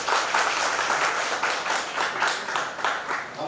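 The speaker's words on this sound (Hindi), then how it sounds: "इसके लिए एक जोरदार ताली होना चाहिए।" Audience applause at an office opening event held on a rainy evening in Thane: steady, even clapping from a gathered crowd that carries on for several seconds without talk.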